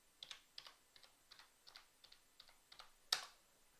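A password being typed on a computer keyboard: about a dozen quiet, evenly spaced key clicks, then one sharper, louder keystroke near the end, like Enter, all heard alone with no voices.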